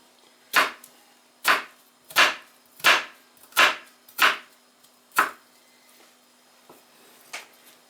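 A knife chops an onion on a wooden board: seven firm, evenly spaced thuds about two-thirds of a second apart, close and clear, then a couple of softer taps trailing off in a quiet room.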